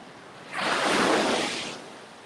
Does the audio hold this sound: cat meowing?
no